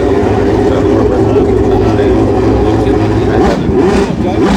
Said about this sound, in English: the car has a Chevrolet LS1 engine on board